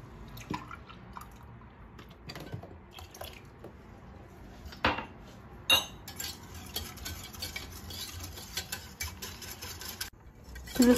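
A utensil stirs sugar, milk and other ingredients together in a bowl for a milk pudding, with soft scraping, sloshing and clinking taps, close and fairly quiet.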